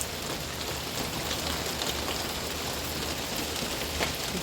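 Heavy rain pours down on a street in Vasylkiv, Ukraine, in a steady, dense hiss, constant and close with no pauses and no voices.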